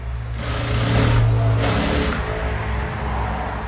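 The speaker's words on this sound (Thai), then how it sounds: "เราก็จะเย็บล้มตะเข็บอันนี้เย็บแล้วรอบหนึ่งเดี๋ยวก็ เย็บให้ดู" Sewing machine stitching down a seam on the centre panel of a Karen-style blouse, a steady close whirring run with a brief pause midway before the motor picks up again.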